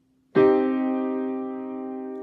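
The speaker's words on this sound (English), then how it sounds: "And a minor chord we think of as dark and moody, and that sounds like this." A single minor piano chord struck once, ringing out clearly and slowly fading, alone and close.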